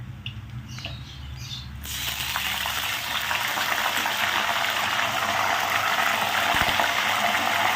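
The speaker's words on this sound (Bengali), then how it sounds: "এই যে নুন জলটা আমি করে রেখেছিলাম, বি কেয়ারফুল, এটা যখন দেবে অল্প অল্প করে এর মধ্যে দিয়ে দেবে" Salt water poured into hot oil for potato chips starts a sudden loud, continuous spluttering hiss that fills the rest of the clip, close and steady.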